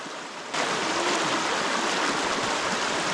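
A river runs close by at a wilderness motocamping site in Malico, Pangasinan, a steady broadband rush of flowing water that swells in abruptly after a quiet half second and then holds level and fairly loud, with no voices.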